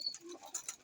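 A racing pigeon coos softly in a loft, a single faint and brief low murmur with some light chirpy sounds, heard alone.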